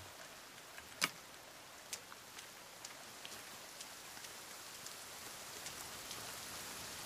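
Steady rain falls in The Forest video game, a soft continuous hiss with a few faint drips and ticks scattered through it and one sharper drop near the start.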